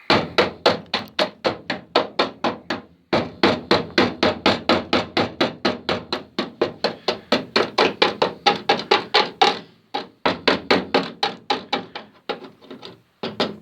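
Repeated loud, close hammer blows knocking off a rusty pot rivet on an Austin's inner sill, in a fast steady rhythm, with a few short pauses between bursts and no talking.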